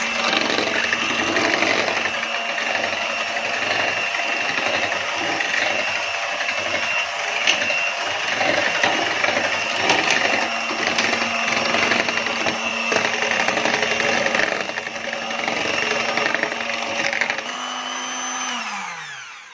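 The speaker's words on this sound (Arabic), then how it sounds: "نضرب بقى الزبادي كله مع بعض" Yogurt being beaten for a chocolate cake batter, a steady, close whirring drone that runs almost unbroken and slows and winds down near the end.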